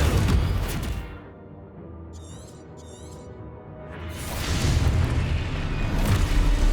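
In the video game Hogwarts Legacy, the Confringo explosion spell booms loudly, its rumble dips to a quieter stretch with faint high chirps, then another heavy blast swells back up. No one speaks.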